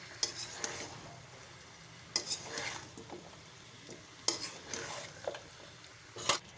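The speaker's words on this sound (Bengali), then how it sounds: "এবার ভালো করে আবার আলুগুলো দিয়ে, মাংসগুলো দিয়ে আর সব মশলাগুলো দিয়ে ভালো করে কষতে হবে" Chicken stomach, liver and potatoes stir-fried with spices in a pan, heard as intermittent scraping strokes of a spatula over a soft steady sizzle, with sharp clinks against the metal every couple of seconds.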